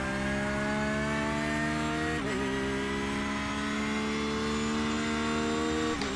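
A Porsche GT3R race car in the iRacing sim accelerates hard at Imola, engine note climbing steadily through the gears with brief shift breaks, loud and continuous, no talk.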